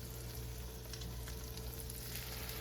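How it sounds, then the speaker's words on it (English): Raisin bread French toast frying in a pan, a steady, even sizzle that holds at a low level throughout with no voices. "Just let it brown on each side"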